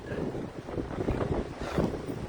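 Strong blizzard wind gusting across a rooftop during heavy snowfall, a dense continuous roar with buffeting microphone noise that swells and dips without pause.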